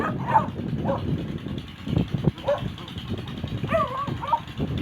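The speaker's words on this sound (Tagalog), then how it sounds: "Ito yung matapang na aso." A fierce dog in a family yard barks and yips in short, scattered bursts, moderately close, over low background noise.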